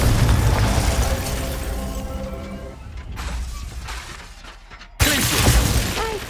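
Confringo blasting spell in Hogwarts Legacy, a series of loud fiery explosions and shattering bursts with booming low rumble, repeated several times over a noisy battle backdrop.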